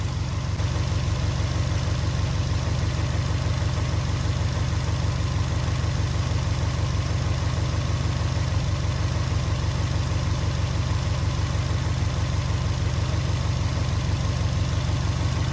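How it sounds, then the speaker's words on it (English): A 2006 Subaru Legacy GT engine idles steadily and loudly at close range, a continuous low rumble with an even pulsing rhythm and no voices. "with the vehicle running"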